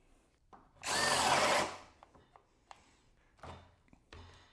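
An overheated Skil 12V PWRCore compact drill lets out one loud whirring burst lasting about a second, followed by scattered faint clicks and knocks.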